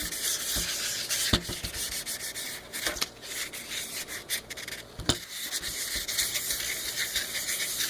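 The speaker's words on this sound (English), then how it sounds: "But this is 600 grain, and just go all over it." A foggy, sun-damaged plastic headlight lens on a Suburban is wet sanded with 600 grit sandpaper, giving a continuous close rubbing hiss with a few sharper scrapes and brief knocks along the way.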